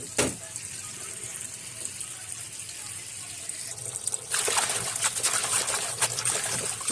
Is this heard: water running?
yes